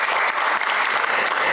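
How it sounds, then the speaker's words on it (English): An audience at the World Toilet Summit applauds as a speaker is welcomed onstage, giving a dense, continuous round of clapping that fills the hall. "let's welcome him with your round of claps on the stage"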